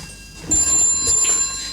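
A landline telephone rings indoors, its steady high electronic tone running through most of the stretch after a brief quieter opening, fairly loud and with no talking.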